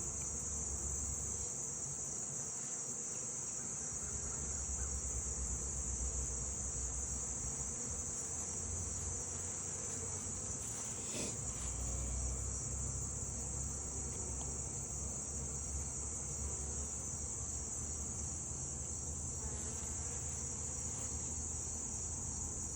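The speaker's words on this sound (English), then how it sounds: "If you listen to the bees, they start to get a little louder as you're running out of time" Honey bees swarm around an open five-frame beehive colony, making a dense, continuous buzz that stays loud and steady from start to finish, with a bright high whine sitting over the drone.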